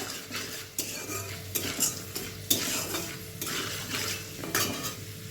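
Dried red chillies tempering in hot oil in a pan of nearly fried lentils give a steady close sizzle, broken by several sharp clinks and scrapes of a spoon against the pan.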